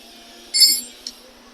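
A 10 mm wrench on a valve-adjuster lock nut of a 1974 Honda CB550 Four gives one sharp metallic clink, then a fainter tap a moment later, close by in a quiet room.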